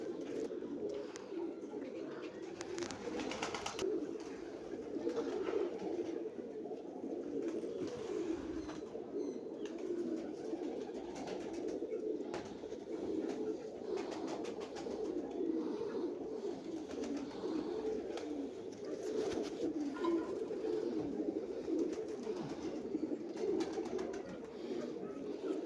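Teddy Golden Cross pigeon pair cooing steadily in low, throaty murmurs that run continuously throughout, fairly close and at an even level, with soft rustling behind.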